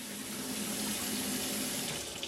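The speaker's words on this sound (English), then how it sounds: "Just wash it off with some water." Tap water runs steadily over oxtail in a kitchen sink, a close, continuous rushing splash with a faint hum underneath and no talking.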